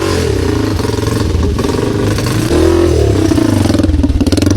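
An enduro motorcycle engine revs loudly up close, its pitch rising and falling with a rough, throbbing rumble throughout.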